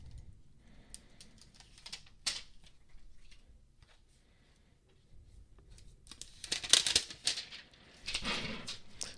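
A replacement battery for an early 2011 to mid 2012 MacBook Pro is unwrapped from its packaging: soft close crinkles and tearing rustles in short bursts, quiet at first and busier toward the end, with no speech.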